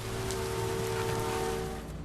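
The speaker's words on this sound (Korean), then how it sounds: "비가 내리기 시작하자 건물 안으로 몸을 피하는 아내." Steady rain falls as a broad, even hiss with a faint low hum underneath, continuous and fairly soft across a brief stretch.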